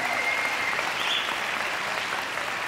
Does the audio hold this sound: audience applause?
yes